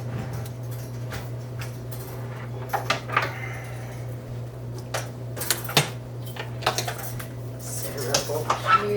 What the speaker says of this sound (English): I'm gonna actually grab my spectacular toaster.